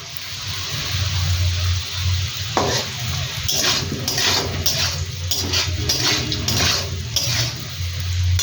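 Potato and taro pieces fry in oil as they are stirred, a low sizzle with metal spatula scrapes and clinks against the pan, busier in the middle stretch.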